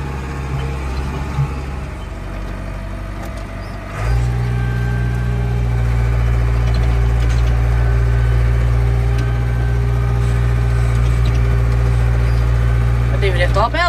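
A simple four-gear farm tractor runs at idle, its low diesel rumble growing heavier around four seconds in, then holding a steady, close idle.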